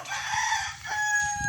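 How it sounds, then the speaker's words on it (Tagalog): A rooster crows once, a short loud rising and falling call heard nearby on a farm, alone with no talk. "Poultry."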